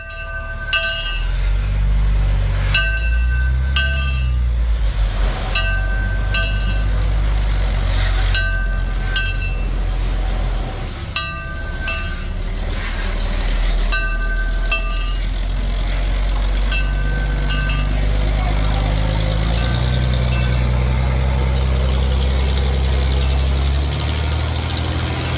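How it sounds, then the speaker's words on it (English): Westside Lumber Company diesel No. 1 pushes narrow gauge steam locomotive No. 5, minus its tender, out of a museum engine house: a loud, rumbling idling diesel under repeated horn blasts, with rail clanks and a rising engine roar later. "number 5 is pushed out of the engine house, sans tender, by Westside Lumber Company Diesel number 1"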